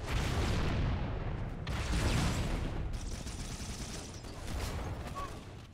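Sustained gunfire from several weapons in the Wifi Battles DX video game, a dense rapid stream of shots and blasts going on throughout at moderate loudness.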